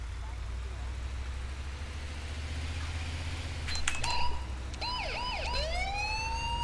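Siren on a Mercedes Sprinter ambulance in GTA V starts wailing in the second half, rising and falling yelps cutting over a low engine rumble and background noise, moderately loud.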